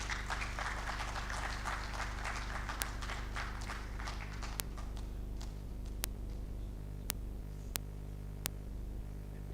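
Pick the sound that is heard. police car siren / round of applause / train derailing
round of applause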